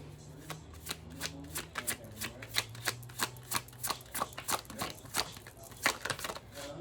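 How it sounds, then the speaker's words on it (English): Tarot cards being shuffled by hand, a steady run of crisp riffling slaps and flutters close up, with a low voice murmuring briefly underneath at the start. "let us start and get a card for you, a card for them, and then a card for the relationship"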